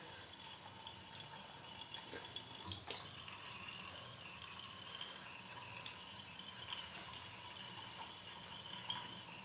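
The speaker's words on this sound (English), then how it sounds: "Just keep saturating it under the hot water, or I should say lukewarm water" Lukewarm tap water runs steadily over a shaving brush, a soft continuous stream with faint trickling and rattling, heard quietly and alone.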